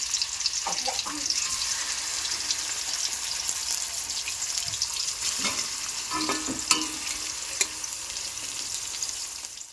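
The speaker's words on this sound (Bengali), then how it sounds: "মাছ ওদিকে ভাজতে বসিয়ে দিয়েছি" Fish frying in a pan at home, a continuous close sizzle with scattered pops and light clinks of utensils, steady in loudness throughout.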